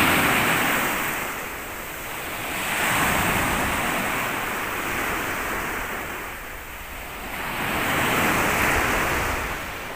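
Calm sea waves wash in slow, steady swells, a broad continuous surf roar that rises and falls in two or three gentle surges, close by.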